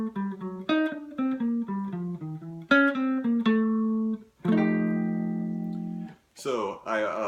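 Guitar picks out an F blues line built on diminished arpeggios, with quick single notes descending and resolving, then a sustained chord rings out before a final bright strum; played alone, clear and close.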